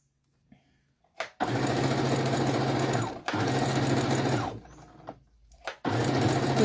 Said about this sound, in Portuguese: Vocês vão costurar no risco